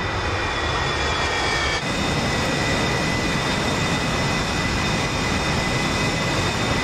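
A J-15 jet in the flight simulator DCS lands, its engine giving a loud, steady roar with high whining tones throughout and a slight shift partway through.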